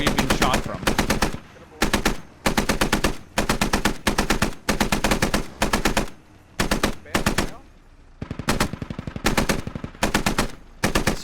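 Repeated bursts of rapid automatic machine gun fire in the military shooter game Squad, loud and close, coming in short volleys separated by brief pauses, with no talking over it.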